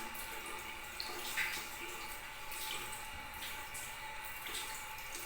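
Tap water runs steadily into a sink while hands are washed in a medical handwashing demonstration, a soft continuous hiss with faint splashes.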